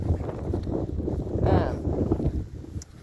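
Gusty wind rumbles and buffets the microphone on a slushy, snowy outdoor walk, loud and continuous with a brief rising whoosh, while a voice talks underneath.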